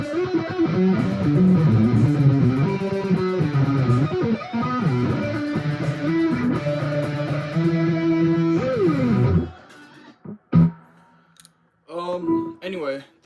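Electric guitar plays the main riff of a song, a dense run of sustained, harmonically rich notes lasting about nine seconds, then dropping to a few sparse, quieter plucks and noises near the end.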